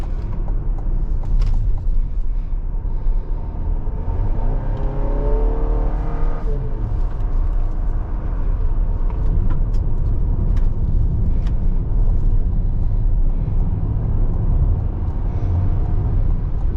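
A 2024 GMC Acadia with a 2.5-litre turbocharged four-cylinder engine drives on the highway in sport mode, a steady low engine drone heard from inside the cabin with a rising whine partway through and no talking.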